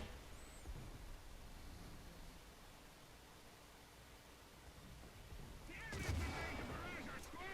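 Shell impacts and explosive blasts strike a tank in the War Thunder ground battle game, a sharp loud burst of crashing hits near the end over a steady rumbling noise bed.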